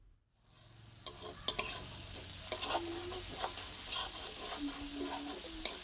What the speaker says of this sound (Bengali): দিয়ে দেব একটু কুচিয়ে রাখা টমেটো, ভালোভাবে একটু কষিয়ে নেব।